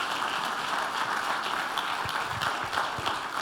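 A church congregation applauds in a steady, dense wash of clapping, moderately loud and continuous for a few seconds.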